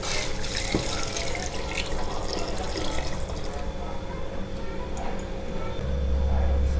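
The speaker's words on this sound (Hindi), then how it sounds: "अब इसमें हम ये 3 कप पानी डाल देंगे।" Three cups of water poured into a pot of chickpeas with salt and spices, a steady splashing, gurgling stream running throughout, close and fairly loud.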